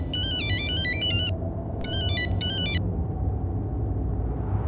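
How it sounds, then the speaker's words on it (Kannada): A mobile phone ringtone plays a bright, repeating electronic melody in two bursts inside a moving car, over a constant low engine and road rumble. "ಫೋನ್ ಮಾಡಿದ್ಯಾರು ಶಿವರಾಮ್?"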